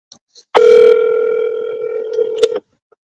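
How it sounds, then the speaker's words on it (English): A telephone dial tone sounds loud and steady for about two seconds as someone returns phone calls, with a brief click at its start and again near its end. "So we're returning phone calls."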